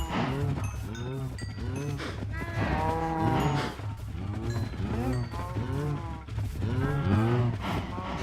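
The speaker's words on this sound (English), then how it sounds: "It's actually not as many cows as there could be." A herd of Minecraft cows moos over and over in overlapping, drawn-out calls, close and steady, with no talking.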